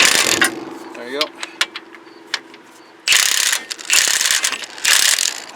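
An impact gun hammers ball joint bolts on the control arm of a 2011 Hyundai Elantra Touring, loud rattling bursts that stall as the bolts tighten, with a brief whirring spin between bursts.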